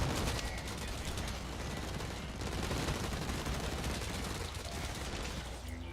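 Dense, continuous burst of heavy pistol gunfire from the shooter game Blacklight Retribution, rapid overlapping shots with mechanical clatter filling the whole stretch at moderate level.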